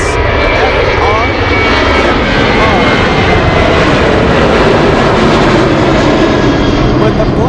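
Aircraft engines roar steadily and loudly at Anchorage airport, a constant heavy jet rumble that fills the whole stretch without letting up.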